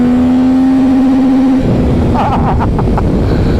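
The engine of a 2024 Yamaha Tracer 9 GT+ motorcycle revs up to a steady high whine that breaks into rough, loud roaring engine noise amid heavy wind rush while riding.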